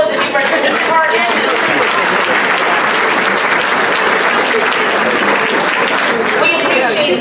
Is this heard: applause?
yes